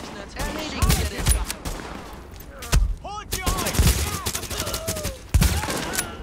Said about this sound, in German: Das war jetzt die Sniper. Weil ich auf Entfernung mal schießen wollte.